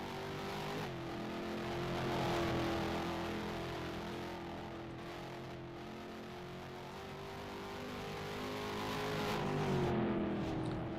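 A race car in superstar heat racing runs on a track, its engine a steady sustained drone rising and falling slightly as it circles, moderately distant, with no talking.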